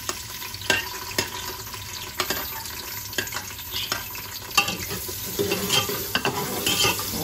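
Onion and tomato frying in a pan, a continuous soft sizzle with repeated scraping and clinking strokes of a spoon stirring, close up and moderately quiet, no talking.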